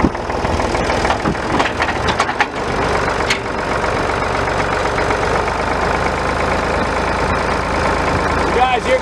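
The intake reel of a Schulte rock picker running, a loud mechanical churn of grinding and clattering over a rumbling engine, with scraping cracks near the start, while someone talks.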